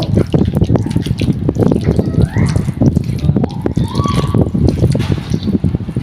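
Mangoes are rubbed and washed by hand under running water, with continuous splashing, dripping and wet handling noises close up.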